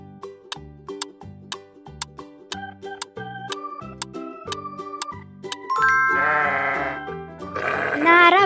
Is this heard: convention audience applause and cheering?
no